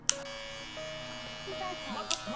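Hair clippers fitted with a half guard buzz steadily at close range while tapering hair, a sustained electric whine with a couple of brief clicks and light handling noises.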